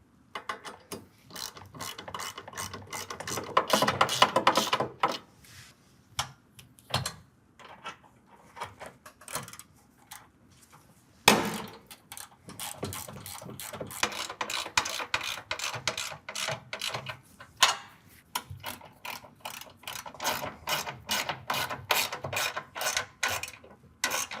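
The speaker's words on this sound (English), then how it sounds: "now we're going to draw these down with a 13 millimeter on the bolt side and also on the nut side" A 13 mm ratchet wrench drawing down bolts and nuts on a truck step bracket for a 2023 Ford F-250 SuperCrew, with bursts of rapid close ratcheting clicks broken by short pauses and a few knocks.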